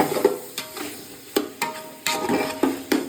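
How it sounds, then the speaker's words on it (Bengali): Meat for biryani sautéed and stirred in a pan, with repeated sharp spoon scrapes and clanks against the metal at an irregular rhythm over a soft sizzle, close and fairly loud. "ততক্ষণ একটু কষিয়ে নিই ভালো করে"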